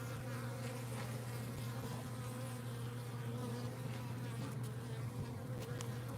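Bees buzz steadily at a horizontal natural beehive, a dense continuous drone close by and alone, with a few louder passes near the end.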